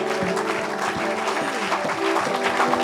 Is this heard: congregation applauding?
yes